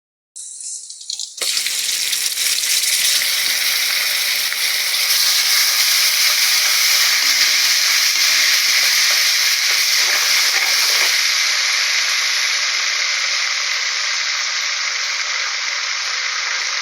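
Onion paste hits hot oil in a wok for a hilsa mustard curry with an abrupt, loud sizzle, which settles into a steady bright hiss that carries on alone.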